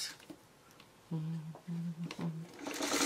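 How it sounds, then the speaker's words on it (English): A sewing machine stitching traditional quilt blocks runs in three short close bursts of steady motor whir, separated by brief pauses, after a quiet start with light handling. "So I'm going to sew a line this way."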